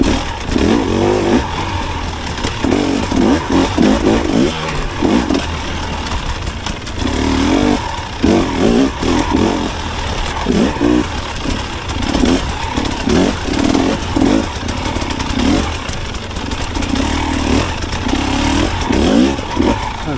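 A 2024 KTM 300XC-W two-stroke dirt bike engine runs loud and close while being ridden, revving up and down continuously with a raspy, fluttering drone and repeated throttle surges throughout.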